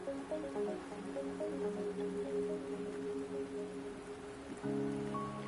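Steady rainfall in the video game Wuthering Waves patters on surfaces alongside a sustained musical drone, with a tonal shift near the end.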